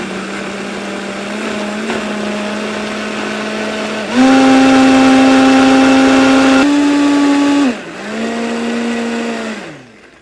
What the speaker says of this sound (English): what we're going to do now is just blend this up until it gets nice and creamy